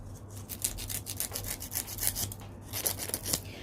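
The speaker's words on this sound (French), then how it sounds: "Vous pouvez limer dans les deux sens parce qu'il reste un petit peu de gel." A nail file rasping back and forth over gel nails, shaping them into a rounded square, with rapid rhythmic scratchy strokes, close up and fairly loud, and no talking.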